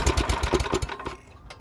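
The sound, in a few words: MTD snowblower engine trying to start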